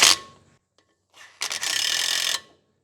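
A ratchet drives 8mm bolts into a brake rotor on a Nissan Patrol rear brake, a sharp close click followed by a pause, then a faint short burst and a second rapid run of ratcheting that lasts about a second.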